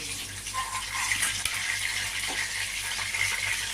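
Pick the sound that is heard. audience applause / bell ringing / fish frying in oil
fish frying in oil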